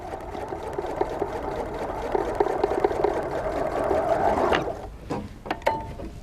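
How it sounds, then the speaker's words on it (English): A sewing machine chain-sews log cabin quilt fabric, its needle running in a steady, rapid mechanical whir for several seconds before it stops, followed by a few close clicks and fabric-handling sounds. "we'll take the time to chain sew"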